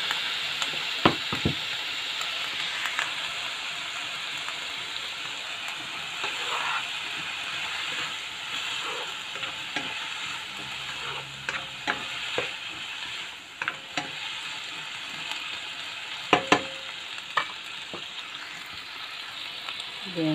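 Sukiyaki ingredients sizzle steadily in a pan after rice wine is added, a continuous frying hiss running throughout with occasional stirring clatters and brief voices.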